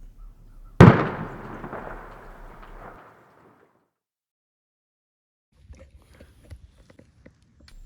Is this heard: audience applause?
no